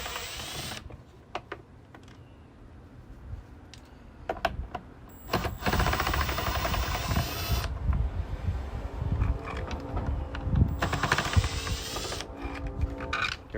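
An impact driver on its lowest setting backs out Torx T-15 screws from a 2021 Ford F-150 mirror cap, with several short bursts of rattling, ratcheting whir separated by quieter handling noises, close and fairly loud.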